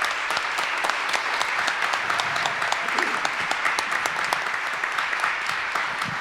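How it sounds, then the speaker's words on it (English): A community gathering audience applauds in steady, dense clapping that stays even and sustained throughout, with a faint voice or two just under the noise. "let's give them a round of applause."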